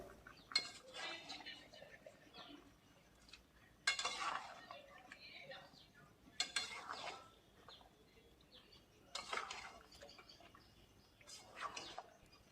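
Mango pieces and jaggery get mixed in a pan, heard as scattered bursts of spoon clinks and scraping against metal separated by quiet gaps, close but soft.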